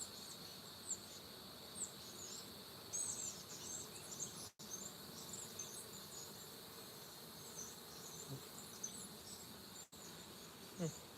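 Honey bees swarm around an open hive during an inspection, their dense, steady buzzing filling the whole stretch with a bright high whine on top and only two brief dropouts.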